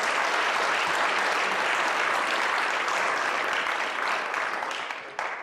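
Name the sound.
audience applause for candidates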